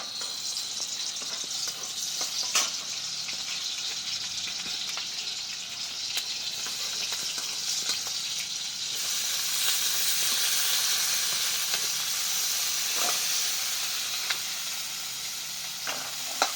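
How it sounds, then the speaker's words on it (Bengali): Chilli, onion and garlic fry in a pan, producing a steady, close hissing sizzle that swells louder partway through, with occasional stirring clicks and no talking. "লঙ্কা, পেঁয়াজ আর রসুন ভেজে নেব।"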